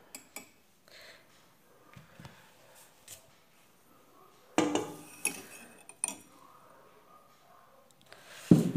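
Egg yolks and sugar are mixed in a bowl, with scattered utensil clinks and scrapes against the dish, some louder strikes toward the end, and no talk.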